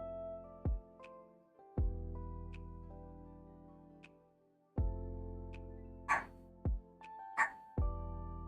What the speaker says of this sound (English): You're gonna be hearing that dog in the background a lot.